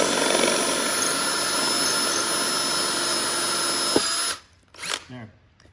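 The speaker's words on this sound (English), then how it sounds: "Some of these are really hard to drill, some just drill really easy." A power drill whines steadily while boring into a travertine stone floor, loud and continuous, then cuts off abruptly near the end, followed by a few brief scrapes and handling noises.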